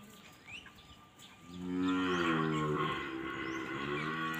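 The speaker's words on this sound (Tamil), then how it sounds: "பால் அதிகமாக கறக்கக்கூடிய மாடுங்க இது." A pregnant high-yield dairy cow on a farm at Idikarai near Coimbatore lets out one long, loud, drawn-out moo after a short stretch of quiet rustling, with no talk over it.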